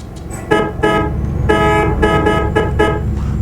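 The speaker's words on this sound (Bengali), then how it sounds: "এইখান থেকে হর্ন দিছে হানিফ ওইখান থেকে সরে গেছে" Repeated bus horn blasts from a Bangladeshi bus driving game on a Bogura road map, several short honks in quick succession over a steady low engine drone, loud and close.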